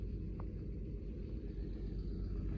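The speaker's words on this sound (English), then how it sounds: "All you can hear is the truck rumbling in the background." A truck engine rumbles steadily in the background on a quiet, foggy, windless night, a faint, continuous low drone with no talking.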